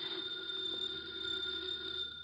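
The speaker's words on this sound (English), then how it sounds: "The phone is ringing." A house telephone rings steadily and alone, a bright electronic trill repeating without pause in a quiet room.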